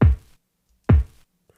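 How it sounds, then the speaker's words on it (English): Two punchy kick drum hits with vinyl crackle, sampled from a record, each a deep thump with a short decaying tail, spaced just under a second apart, followed by a faint tick. "Very nice vinyl crackly kick"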